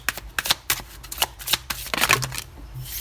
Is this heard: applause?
no